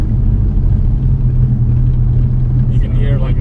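A Dodge Viper engine revving in low gear inside the car, a loud deep rumbling growl that swells steadily, with people talking over it.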